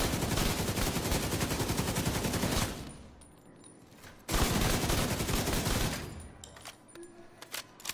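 Rapid automatic gunfire from The Division video game, loud dense bursts filling the first half and again from about 4.3 to 6 seconds, with quieter gaps and faint game effects in between.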